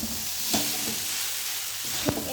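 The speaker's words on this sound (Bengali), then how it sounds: "চাউমিনটা ঢেলে দিতে হবে। তারপরে ভালোভাবে কষে নিতে হবে। নাড়াতে হবে," Chow mein noodles are stirred and fried in a pan, giving a loud continuous sizzle with two distinct scraping strokes of the spatula.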